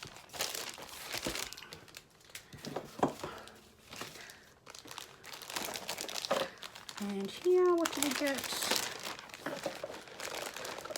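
Sheets of paper from a happy mail craft package crinkle and rustle in bursts as they are handled up close, interrupted by someone speaking quietly.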